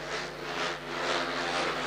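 Speedway motorcycles racing on a track at an Ekstraliga match between Polonia Bydgoszcz and Apator Toruń, a loud steady engine roar rising and falling slightly as the bikes run, with no talk.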